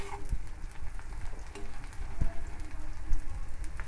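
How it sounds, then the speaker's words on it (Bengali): Onion and green chili fry in hot oil with a steady, close crackling sizzle that holds for a few seconds, dotted with a few sharper pops and no talking. "পেঁয়াজ কাঁচা লঙ্কা ভাজা হলো"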